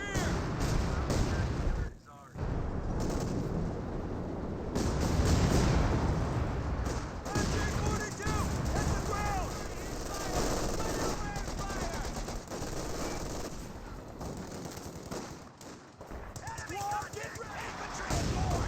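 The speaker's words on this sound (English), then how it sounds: "Another light artillery barrage being brought on the VP" Artillery barrage in the video game Company of Heroes 2: continuous loud battle din of rapid gunfire, booming impacts and explosions layered over one another, with a brief drop near the start.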